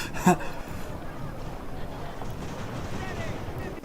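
Cannon fire in Ultimate General: American Revolution, a black-powder battle game, opening with one sharp loud boom followed by a low, rolling rumble of distant artillery and battle noise that stays steady to the end.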